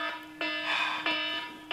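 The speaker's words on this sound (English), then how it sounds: "Alarm!" An electronic alarm sounds in repeated harsh, buzzing tonal pulses about every two-thirds of a second, steady and fairly loud, with no speech over it.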